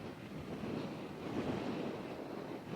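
Ocean surf and wind on the beach at Ocean Shores, Washington: a steady broadband roar of breaking waves with gusty wind buffeting the microphone, swelling slightly midway, no voices.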